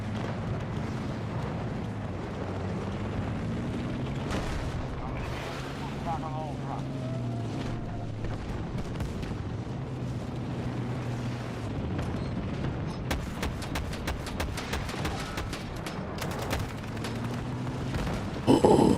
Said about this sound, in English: That's a tank.